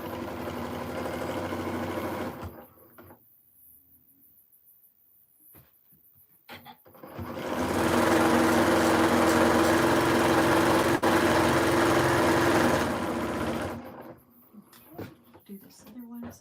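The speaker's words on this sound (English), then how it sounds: "Then I'm just going to hang out and sew for a while" A sewing machine piecing a quilt block whirs for about two seconds, falls quiet amid small clicks, then runs again in a long, even, close-up stretch before stopping.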